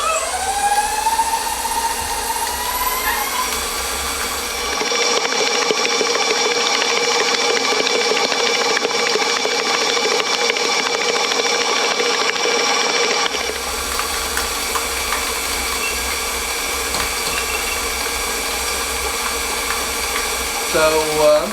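An electric mixer whirs steadily as it beats cream cheese and sugar for a homestead cheesecake, a continuous high motor drone that changes pitch partway through.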